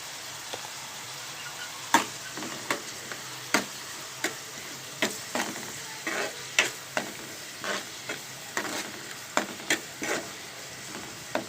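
Onions fry in a pan with salt and turmeric, giving a steady soft sizzle broken by a dozen or so sharp clicks and scrapes of stirring, close and alone with no talk.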